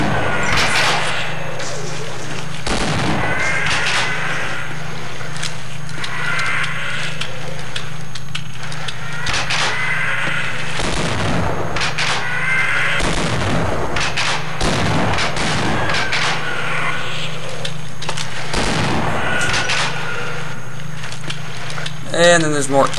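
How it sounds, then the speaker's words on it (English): Shotgun blasts in Half-Life, heavy booming shots fired in an irregular rapid series over game music and ambience, loud and up close throughout, with a voice talking over the action. "Bum rushing with a freaking shotgun."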